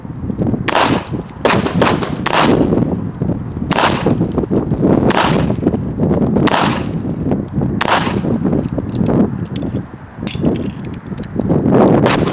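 Remington RM380 pistol fired repeatedly, a dozen or so sharp loud cracks in irregular bursts with brief gaps, each shot ringing out close over a noisy outdoor background, no voices.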